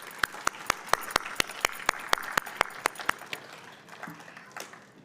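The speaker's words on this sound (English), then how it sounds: "Please join me in giving him a big round of applause." Rhythmic, sharp claps at an award ceremony ring out in a steady beat, close and distinct at first, then fading into softer scattered applause toward the end.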